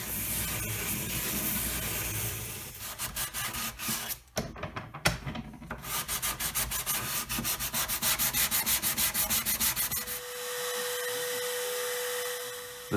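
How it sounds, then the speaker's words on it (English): Travel guitar body sanded with sandpaper wrapped on a spindle sander arbor; loud, continuous abrasive whirring and scraping with rhythmic pulses as the wood is worked, a brief pause midway, then steady grinding alone. "the sandpaper is on an arbor from my spindle sander"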